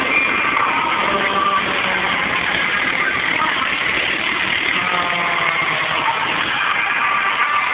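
Rally cars roar steadily near the roadside at a rally in Patras, a dense, loud engine drone filling the whole stretch with no breaks, and faint crowd noise mixed beneath.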